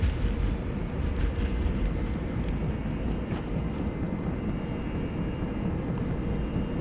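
Airbus A318 jet engines at takeoff thrust during the takeoff roll, a loud, steady broadband roar with deep rumble that holds constant throughout, no voices.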